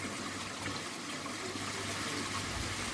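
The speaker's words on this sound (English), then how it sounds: "washing down the Nexon sieve" Water rushes steadily over an aquarium filter sieve as it is washed down, a loud continuous gushing spray that stays close and unbroken throughout.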